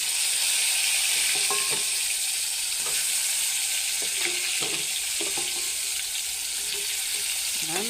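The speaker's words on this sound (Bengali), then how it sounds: "এবার আমি মাছ ভাজি এলাম।" Fish fries in hot oil with a dense, steady sizzle, broken by scattered light clinks and taps from the pan, and no talking.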